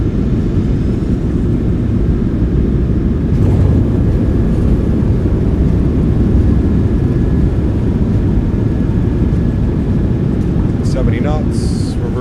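A PMDG 737-700 in a flight simulator deploys its thrust reversers on the landing rollout. A loud, steady low roar and rumble lasts the whole time, with faint clicks near the end.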